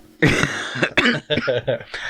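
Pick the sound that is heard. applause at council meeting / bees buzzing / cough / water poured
cough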